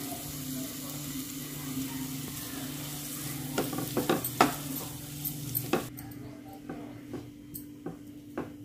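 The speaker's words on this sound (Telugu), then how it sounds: "మనం ఉడికించి పెట్టుకున్నాం కదా రైస్ వేసుకుంటూ కలుపుకోవాలి" Cooked rice is stirred into fried fenugreek-leaf paste in a pan: a soft, continuous sizzle under scattered spoon scrapes and clinks against the pan, growing sparser toward the end.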